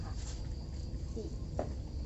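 Farmed crickets at a backyard garden farm chirp in a faint, steady high-pitched trill over low background noise.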